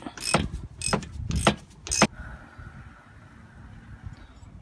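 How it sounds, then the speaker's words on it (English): A 17 spanner clanks and ratchets on a brake caliper bolt of a 2017 Mercedes-Benz C220 in four sharp metallic bursts in quick succession, then only a quiet background hum remains. "use this 17 spanner. Just hold from inside and open it."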